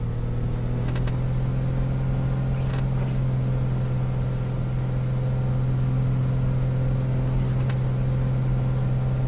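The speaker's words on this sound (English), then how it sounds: "Adding a bit of throttle, let the revs build up a little bit." An A2A aircraft engine in the Prepar3D flight simulator, held on the brakes with a bit of throttle, hums in a strong, steady drone with layered tones, punctuated by a few faint clicks.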